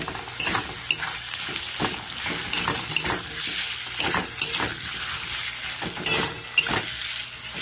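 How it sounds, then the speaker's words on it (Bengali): Ginger paste and green chilli sautéing with potatoes in a pan for a Bengali katla fish curry, giving a steady close sizzle with repeated scraping stirs and light clinks of the spoon against the pan. "আরও দু মিনিট আমি কষিয়ে নেবো"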